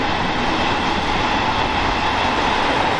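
A train rumbles past loud and close, a dense, unbroken roar of rolling wagons that holds steady for a few seconds with no talk.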